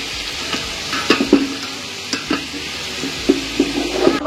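Tomato pieces go into a simmering kuzhambu curry in a home kitchen, giving a low bubbling sizzle marked by scattered sharp clinks and stirring knocks from the pot.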